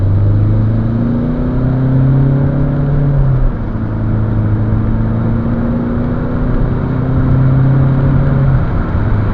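A 2011 Peugeot 508 1.6 e-HDi diesel engine revs steadily under acceleration, its pitch climbing, dipping briefly as it shifts gear, then rising again; continuous and close.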